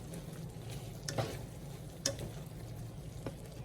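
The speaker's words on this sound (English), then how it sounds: "these chicharrones have been sauteing for about 5 minutes" Chicharrones sauteing in a pan, about five minutes in and softening in a little gravy, give a steady, low frying hiss. Faint ticks and pops break through now and then, with no talking.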